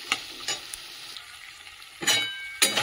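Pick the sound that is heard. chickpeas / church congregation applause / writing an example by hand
chickpeas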